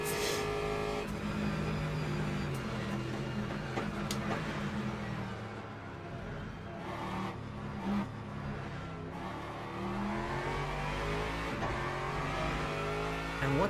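An Aston Martin race car in the Le Mans Ultimate racing game at Spa roars continuously, its engine revving up and down through gear changes with brief tire squeal, heard close and steady for the whole stretch with no talk.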